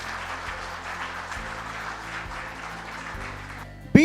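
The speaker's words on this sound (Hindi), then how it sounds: "एक बार जोरदार तालियां हो जाए आप सभी लोगों के लिए।" An audience at a business seminar applauds in a steady wash of many hands clapping, fairly even in loudness throughout, with a low hum beneath and a brief sharp sound at the end.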